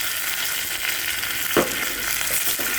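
Mustard seeds and curry leaves sizzle in hot oil for a colocasia curry, a steady dense hiss with a brief louder crackle near the middle, close and alone without voices.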